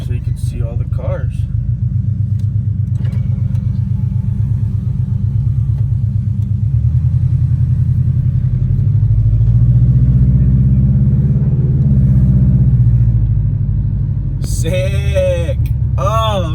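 A car engine drones steadily from inside the cabin while driving on the road, a low continuous rumble that swells slightly midway, with people talking over it throughout.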